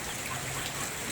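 Monsoon rain falls as a steady, dense broadband patter that holds evenly through the brief moment with no voices.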